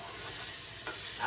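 Sausage browning in a metal pan for sausage gravy, a short close sizzle with faint stirring scrapes and a slight rise at the end, no talking.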